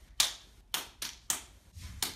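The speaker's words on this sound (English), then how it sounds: "Clap, Kinsley." A small child claps hands at home, six separate sharp claps in an uneven rhythm, close and fairly quiet, with no other sound between them.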